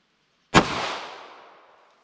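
A single handgun shot of Underwood Heavy ammunition fired through a chronograph from a short barrel, a sharp loud crack followed by a decaying outdoor echo tail lasting over a second, alone with no talk.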